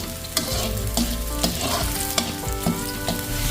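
Garlic, onion and ginger sizzle and fry in a pan while being stirred, a steady close crackle with periodic scraping stir strokes throughout.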